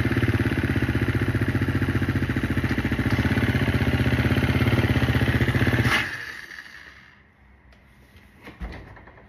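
A motorcycle engine idles steadily and loud for several seconds, then cuts off, leaving near silence with a few faint clicks and a small knock at the end.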